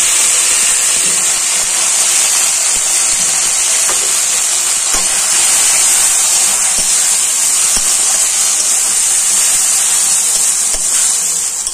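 Spice paste hitting partly fried potatoes in a hot pan for a prawn curry, a loud steady sizzling hiss that holds evenly throughout with no voices.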